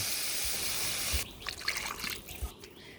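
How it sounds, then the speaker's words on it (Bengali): Broth is poured into a curry of eggplant, pumpkin and lentil dumplings, giving a short, close liquid trickle and splash after a stretch of steady background hiss, with no talking. "তরকারিতে আমি পরিমাণ মতো ঝোল দিয়ে নিলাম।"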